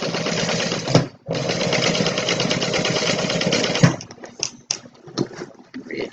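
A sewing machine top-stitches a fabric tote bag in a fast, loud, steady whir, with a brief stop near one second, then a long run followed by short stop-start bursts.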